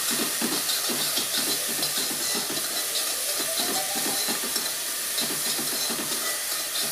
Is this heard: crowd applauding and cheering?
no